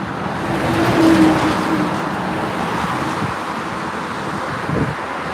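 A bus coming along a city street amid passing traffic, heard as a steady engine and road rumble with wind noise, swelling slightly around the middle and fading into general traffic.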